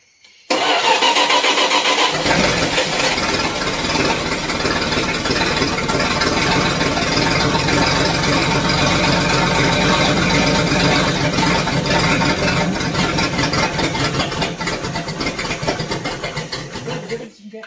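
A Slant Six engine cranks briefly, catches and fires up loudly, then settles into a steady, rough idle that runs continuously for the rest of the clip, with some faint talk nearby.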